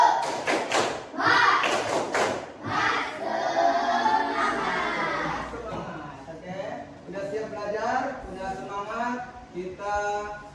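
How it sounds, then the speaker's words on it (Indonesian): Sixth-grade pupils in a classroom perform a rhythmic spirit clap, a patterned series of loud, sharp group claps and thumps mixed with their chanting voices. "Tepuk semangat."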